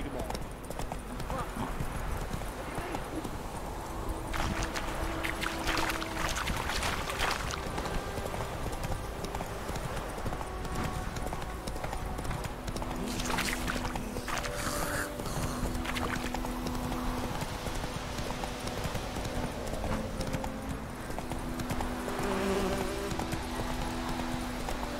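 Roach the horse gallops in The Witcher 3, hooves clip-clopping steadily throughout at a moderate level beneath continuous game music and ambience, with speech layered over parts of it.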